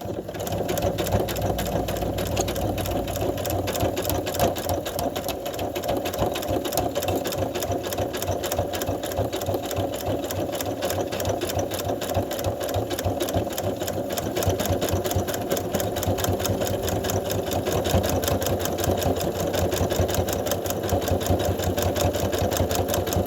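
A sewing machine stitches steadily through a quilt binding at a corner, its needle motor whirring in a fast, even rhythm that runs continuously and close by without pause.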